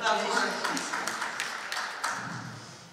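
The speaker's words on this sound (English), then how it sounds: "Clap for her." A conference audience at a business forum claps for someone speaker, scattered sharp hand claps rising then tapering off, with a voice talking over them.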